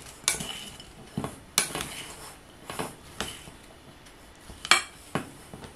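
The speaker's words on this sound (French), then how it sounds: "Allez, je mélange." Utensils scrape and clink against a bowl while pasta salad is tossed, giving several sharp metallic knocks spaced irregularly over a soft background of stirring.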